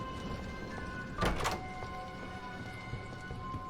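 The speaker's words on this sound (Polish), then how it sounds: "U, ktoś tu pukał." A single knocking thunk on a door in the horror video game Doors, set in a dark library room, one brief knock cluster over steady background hum and faint game music.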